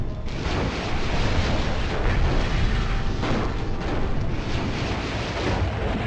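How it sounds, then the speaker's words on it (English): A repair facility blowing up in the MechCommander video game, a sustained loud rumbling explosion with crackling bursts rolling on for several seconds at steady intensity. "they blew up the repair facility"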